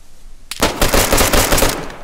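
Video game shootout gunfire: after a short quiet moment, a loud, close burst of rapid automatic fire rattles on for well over a second.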